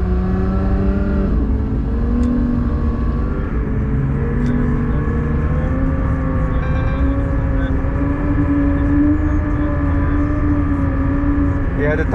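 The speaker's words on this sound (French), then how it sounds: "On va essayer la GT3 RS sur circuit." A Porsche 992 GT3 RS laps a race track, its engine a loud, continuous high-revving drone heard from on board, with the pitch sweeping up and holding as the car accelerates.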